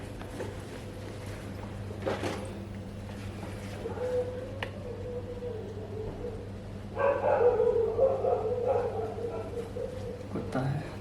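A dog barks a few times in a flat late at night, the short barks sounding at moderate distance while a person talks over the latter part.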